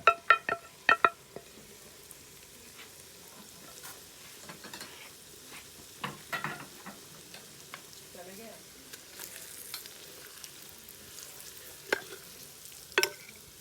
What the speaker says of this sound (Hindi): तो अब मसाले डाल रहे हैं इसमें